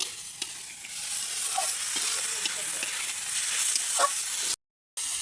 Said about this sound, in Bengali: ছোটো আলুগুলো দিয়ে দিলাম, দিয়ে কিন্তু বেশ কিছুক্ষণ এগুলো কষিয়ে নেব